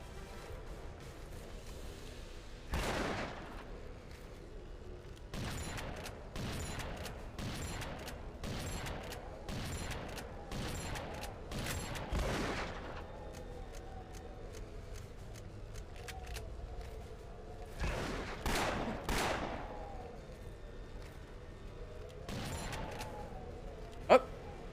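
Gunfire rings out in the video game Afterfall: InSanity as a run of sharp shots, some in quick bursts and others spaced apart, with a few louder cracks near the end over a low background hum.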